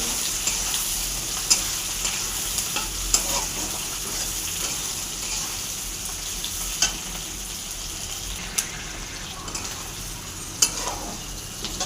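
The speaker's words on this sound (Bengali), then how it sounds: "ভালো করে লাল লাল করে ভেজে নেবো" Chopped onions with cumin seeds fry in a pan, giving a steady, close sizzle that runs the whole time, broken by a few sharp clicks from stirring; no voices.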